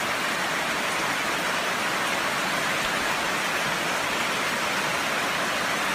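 Steady rain falls on jungle terrain during Karen army (KNLA) recruit warfare training, a constant dense hiss of drops with no pauses and no voices.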